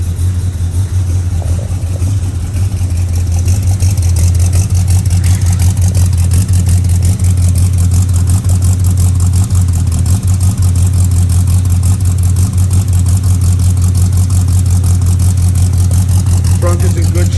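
A 1970 Oldsmobile Cutlass with a 455 V8 and a 2.5-inch X-pipe exhaust runs steadily throughout, a loud, deep, continuous rumble close by.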